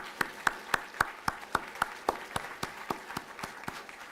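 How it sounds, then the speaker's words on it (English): Applause from an audience at a university science anniversary event, with distinct rhythmic claps that stay fairly steady and slowly thin out toward the end. "Let's give all our students one more round of applause."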